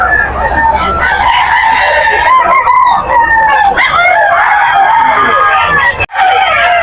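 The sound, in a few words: rooster crowing at a pet market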